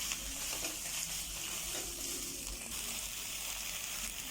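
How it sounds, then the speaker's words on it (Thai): Tofu stir-fried with shrimp paste in a pan without oil hisses in a steady, moderate sizzle with soft stirring, continuous and close, no voices. "ผัดเป็นหอมแล้วก็ตามด้วยเต้าหู้ทรงเครื่องผัดให้มันร้อนนะครับ"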